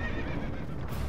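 A horse in the video game Dark Souls II gives a short whinny over steady clip-clopping hooves, a brief burst of game creature sound heard close and alone.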